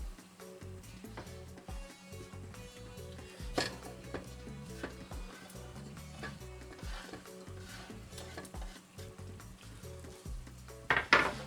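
Cheddar melting in a pan for Welsh rarebit, about 650 grams, stirred steadily with a utensil that scrapes and clinks against the metal under a soft sizzle, with a louder clatter near the end.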